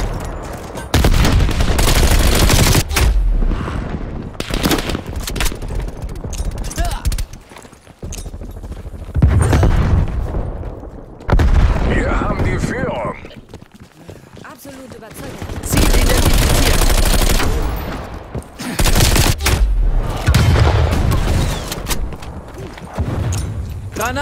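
Call of Duty Black Ops Cold War multiplayer combat, with repeated heavy blasts and bursts of gunfire arriving in loud waves separated by quieter stretches, sharp crackling impacts running through the battle.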